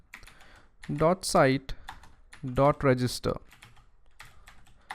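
Keyboard typing of a line of code in a Python Django admin.py file, soft irregular keystrokes running faintly beneath a man's speech throughout.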